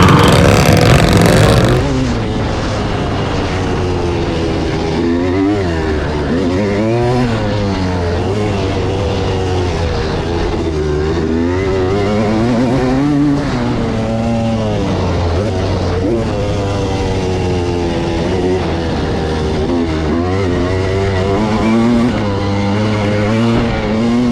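A CR250 dirt motorcycle races in an off-road GP3 open expert class event. The loud, close engine note rises and falls continuously as the rider shifts and throttles through the course.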